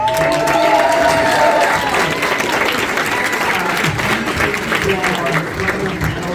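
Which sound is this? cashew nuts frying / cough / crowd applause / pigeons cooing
crowd applause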